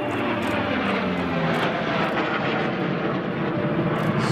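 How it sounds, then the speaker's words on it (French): A Fury propeller fighter flies past at the La Ferté Alais airshow, its engine a loud, sustained roar that holds steady throughout with no speech. "ce chasseur à hélice était le Fury, la Fury"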